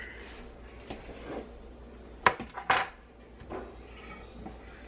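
Meat mixture for stuffed peppers being stirred in a bowl, with a few soft scrapes followed by two sharp, close clinks and knocks in the middle, then quiet rubbing.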